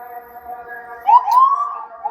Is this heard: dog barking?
no